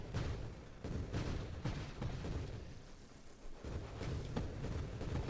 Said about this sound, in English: The problem with these explosions is that they're not the entirety of the screen yet.